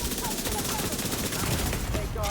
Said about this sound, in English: Sniper turret missed him.